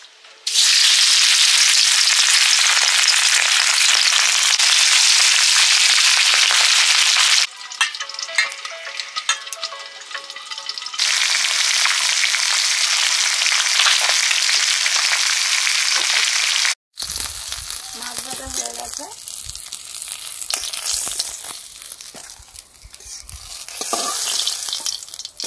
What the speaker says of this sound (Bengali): মাছগুলো ভেজে নিচ্ছি